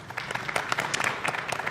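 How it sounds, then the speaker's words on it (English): A studio audience at a televised panel on racism and islamophobia applauding, brief dense clapping at steady close range with no voices over it. "we can applaud them"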